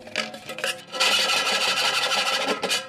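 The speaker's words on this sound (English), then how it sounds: "don't you just love that sexy grating sound?" Metal being reamed by hand with a harsh, rasping grating, a few short strokes followed by a longer continuous scrape, close and fairly loud with no talking.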